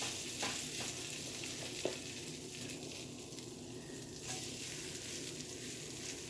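Vegan, gluten-free potato pancake batter fries in margarine or oil in a pan, a steady faint sizzle with a few small pops and scrapes, heard alone without talking.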